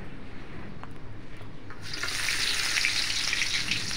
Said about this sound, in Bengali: কড়াইয়ে তেল, সয়াবিন তেল দিয়ে দিয়েছে।